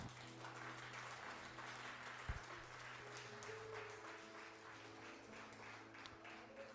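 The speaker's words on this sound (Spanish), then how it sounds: "¿Cuánto le pueden dar palmas al Señor?" A church congregation claps together in a steady, sustained round of applause, heard at a moderate distance in a large room. A few faint voices sit under the clapping.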